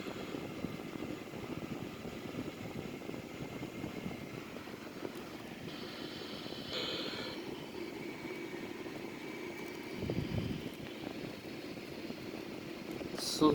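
Twin-engine Sukhoi Su-30 fighter jet idling on the ground with its left engine being started, a steady broadband roar with rising hiss at moments, fairly close, without speech.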